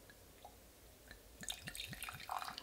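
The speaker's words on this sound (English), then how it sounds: "So I'm just pouring a little" Wine poured from a bottle into a glass at home, heard as a short run of soft, near liquid splashes and gurgles rising after a quiet start, with no talking.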